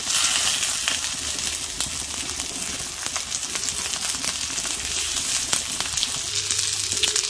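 Semolina-coated sticks frying in hot oil, a steady close crackling sizzle with scattered sharp pops throughout, no voices.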